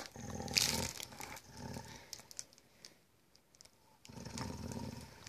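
A Rottweiler-beagle mix dog gives low, rumbling growls in several bursts separated by brief quiet gaps. The growls are close to the microphone and fairly quiet, with a few faint sounds around them.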